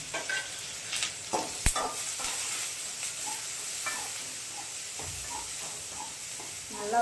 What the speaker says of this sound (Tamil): பொரிஞ்சதுக்கப்புறம் சின்ன வெங்காயம் கருவேப்பிலை சேர்த்து வதக்கி விட்டுக்கலாம்.